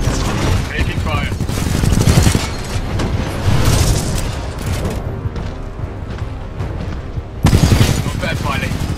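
Gunfire in the video game Titanfall 2, with loud bursts and booming shots fired repeatedly over several seconds as game voices speak over the combat.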